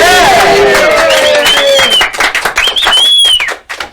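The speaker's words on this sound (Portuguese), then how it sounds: "Palmas para o André!" Students at a school exam-review chat session clap for a classmate amid loud, excited voices; scattered sharp claps pick up after the first moments and break off unevenly near the end.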